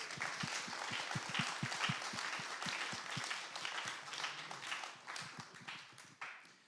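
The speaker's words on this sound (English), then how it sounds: "A big round of applause for our speakers." An audience at a London product meetup gives speakers a round of applause, a quiet, dense clatter of many hands with some sharp individual claps near the front, tapering off at the end.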